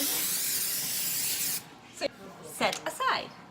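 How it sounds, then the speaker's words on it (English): A steady spray hiss of grease being applied to wax paper for pumpkin rolls lasts about a second and a half, followed by a few short rustles and handling noises. "Grease waxing paper."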